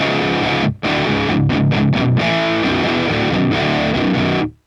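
Heavy, woolly, doomy distorted electric guitar chugging through a high-gain amp model, thick low-end gain, loud and continuous, with a brief gap near the start.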